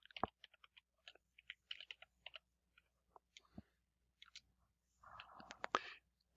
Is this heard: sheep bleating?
no